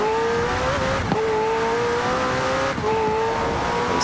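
A McLaren Senna in Forza Horizon 4 revs hard, its engine note climbing steadily with brief dips at gear changes, loud and close with no voices over it.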